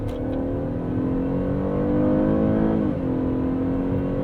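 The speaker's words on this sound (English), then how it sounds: "It just sounds like any other V6." 2023 Chevrolet Traverse V6 engine accelerating through a smooth nine-speed automatic, a steady muted hum that rises in pitch, then dips briefly at a gear change, heard from inside the quiet cabin.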